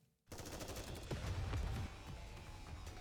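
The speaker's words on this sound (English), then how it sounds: "The squares filled with the sound of gunshots and explosions" Dense gunfire and explosions in the Goddess of Victory: Nikke game, a battle in a city square, with rapid shots and booming blasts rolling continuously and loudly after a brief silent start.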